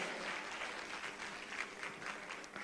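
A steady wash of audience applause greets a keynote speaker at a national investment quiz competition final. Dense, even clapping comes from a crowd heard at a moderate distance, with no voices over it.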